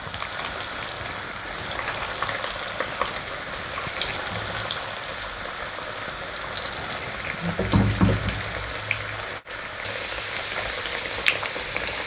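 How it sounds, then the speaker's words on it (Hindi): Chicken nuggets sizzle steadily in hot cooking oil, a dense, close crackling hiss that continues throughout with a brief stir or movement near the middle. "अब हम इसमें डालते हैं अपने नगट्स। बहुत ज़्यादा गर्म में भी नहीं डालना और ठंडे ऑयल में भी नहीं डालना।"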